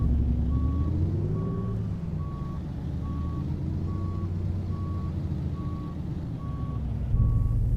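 Steady reversing beeper of a Mack Superliner truck in American Truck Simulator, evenly spaced alarm tones repeating about nine times over a constant low diesel engine rumble while backing up.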